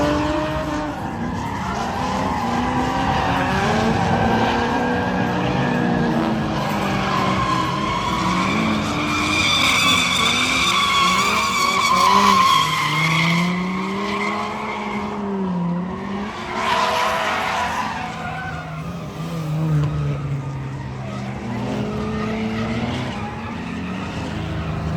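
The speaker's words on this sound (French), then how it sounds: "Je viens de débarquer de la drift, j'ai vraiment aimé mon expérience." A car drifting on a track, tyres squealing and skidding loudly with the engine revving and falling through long slides, close and continuous.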